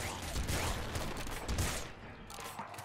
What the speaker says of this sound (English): It, seems to be that it is creating a real explosion because it's destroying wall tiles